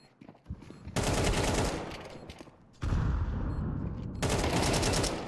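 Dense automatic gunfire rattles through a Counter-Strike 2 esports event match, with loud, sustained bursts that are briefly broken by a quieter gap before the firing resumes at full intensity.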